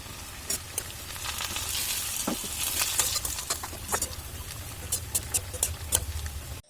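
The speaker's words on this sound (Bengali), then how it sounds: "আলুটা হলো কুচিয়ে রোদে শুকিয়ে নুন দিয়ে হলুদ দিয়ে সেটা শুকিয়ে এখন হবে ভাজা।" Sun-dried potato slices, salted and coated in turmeric, fry in hot oil in a wok, giving a steady close sizzle broken by sharp crackling pops, with no talking.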